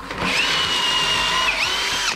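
A power drill bores a pocket hole through wood with a pocket hole jig, one short close whine lasting about two seconds with a brief pitch dip near the end.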